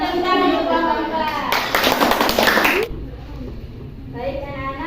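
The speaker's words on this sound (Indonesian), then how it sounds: "Beri tepuk tangan untuk kelompok" A primary school class claps for group 4 after their presentation, a loud burst of children's clapping in the middle, framed by a teacher's voice and children talking before and after.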